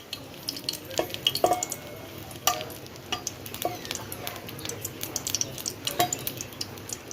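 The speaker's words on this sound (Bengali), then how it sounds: "শুকনো লঙ্কাটাকে একটু উল্টিয়ে নিলাম" Dry red chillies and bay leaf stirred in hot Bhagirathi ghee for moong dal, with a steady low sizzle and scattered light scraping and clinks of a spoon against the pan, no talking.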